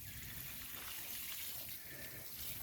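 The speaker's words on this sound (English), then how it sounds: "let's get our water and let's start watering" Water pours steadily from a hose or can onto tomato plants close to the ground in a greenhouse, a continuous near splashing and gushing with no break.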